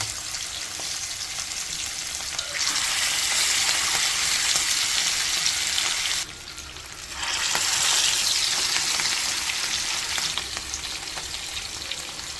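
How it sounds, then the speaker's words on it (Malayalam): Fish frying in oil with curry leaves in a pan sizzles loudly and steadily, close up, with a brief dip in intensity partway through before the hiss swells again. "ഓയിൽ ഒഴിച്ച് കറിവേപ്പില ഇട്ട് നമ്മുടെ നെമ്മീൻ അങ്ങോട്ട് വെച്ച് കൊടുക്കാം"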